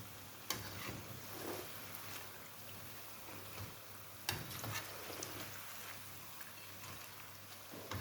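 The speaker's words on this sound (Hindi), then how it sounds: "ये पकोड़े 7 से 8 मिनट लेंगे दोनों तरफ से फ्राई होने में।" Potato laccha pakoras deep fry in oil over a medium flame, a faint, steady sizzling hiss with scattered soft pops and crackles throughout.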